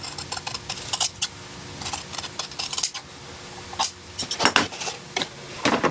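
Scissors cut around a marked line on fabric for a tailored bedskirt with quick repeated snips and crisp blade clicks in uneven bursts. Close by, and no one speaks.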